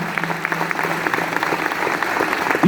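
A church congregation claps steadily and evenly, a dense wash of applause filling the space.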